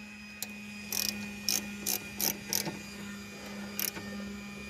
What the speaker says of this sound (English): Gotta be careful with these really long wrenches like this, because on a bolt like that you could snap it clean off.